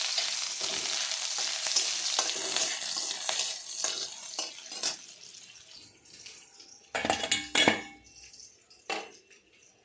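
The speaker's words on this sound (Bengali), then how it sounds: "সবার প্রথমে তেলে পেঁয়াজ দেওয়ার পর পেঁয়াজগুলো ভেজে নিব।" Chopped onions frying in oil: a close, continuous sizzle with scraping stirring sounds, thinning out midway before a few louder clattering bursts near the end.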